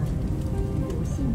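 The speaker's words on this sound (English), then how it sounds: "It is raining." Rain falling steadily outdoors in Chengdu around Dujiangyan, a dense low patter on surfaces, continuous and fairly loud for the whole moment with no clear speech.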